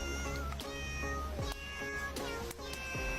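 A cat meows repeatedly, four or five short rising-and-falling mews in a steady rhythm, close and clear over a constant background hum, without talking.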